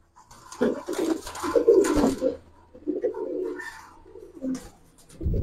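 Silver khaki pigeons cooing at close range in a home loft, several soft throaty coos in uneven bursts with short pauses between.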